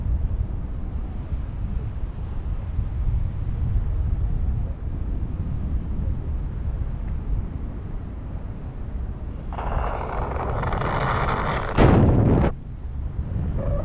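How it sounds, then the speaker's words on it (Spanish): Strong wind buffets the microphone during a paragliding flight over Calarcá, a steady low roaring rumble that persists throughout, with a brief harsher gust-like burst near the end. "se le escucha solo el ventarrón"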